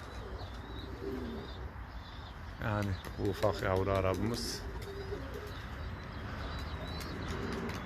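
Pigeons coo softly in the background around a loft, a few low murmuring calls and faint chirps, while someone speaks up close over them for a stretch in the middle.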